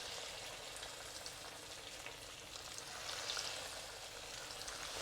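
Pork ribs fry in hot oil with a steady, bright, hissing sizzle, like light rain, holding at an even level throughout with no talking.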